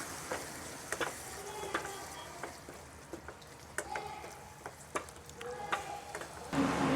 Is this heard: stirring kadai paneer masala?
yes